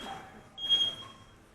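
A single short, high electronic beep sounds once in a quiet indoor space, faint and brief.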